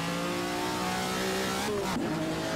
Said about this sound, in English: there's a noise there that almost sounds like it should be a paddle shifter car, if that makes sense